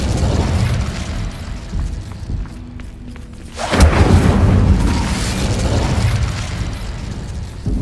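Incendio fire spell cast in the Hogwarts Legacy video game: a sudden loud whooshing burst partway through, swelling into a sustained roaring rumble over quieter game ambience.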